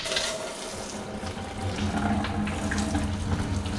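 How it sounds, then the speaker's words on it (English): Water runs from a newly installed kitchen faucet into the sink during a remodel, flushing the lines in a steady, fairly loud splashing rush that continues throughout. "we're going to turn the water on"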